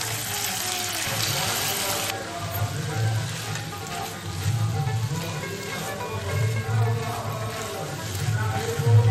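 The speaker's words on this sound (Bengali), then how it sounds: "জলে ভেজানো চালটা দিয়ে দিচ্ছি।" Soaked Gobindobhog rice goes into a pot of water, a wet pouring and sloshing sound at first, then low bubbling and stirring close by, with some quiet background noise and no talk.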